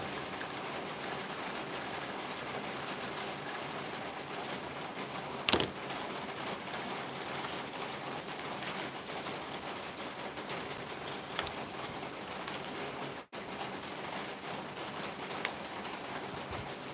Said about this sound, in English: The rain is going sideways